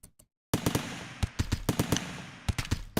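Rapid bursts of RimWorld video game gunfire, a couple of faint pops followed after a short silence by loud, sharp shots fired in quick irregular volleys, close and punchy, with no talking.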